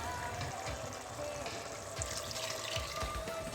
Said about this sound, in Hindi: ये 2 कप मैंने पानी इसमें ऐड कर दिया है